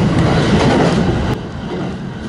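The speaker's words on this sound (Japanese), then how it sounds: "小諸発軽井沢行きの始発列車がこの伊予田平原間ですれ違います。" Two trains pass each other between Karuizawa and Komoro: a loud rumble and clatter close by, then the roar drops suddenly as they pass, leaving a lighter rolling rumble.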